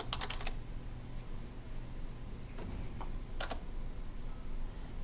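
Keys clack on a computer keyboard in short bursts of quick taps separated by pauses, close and fairly quiet, with no voices.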